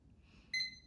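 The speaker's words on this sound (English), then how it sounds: "This looks like a stopwatch." A small stopwatch timer from a science kit gives a short, quiet electronic beep, a single high chirp over faint room noise.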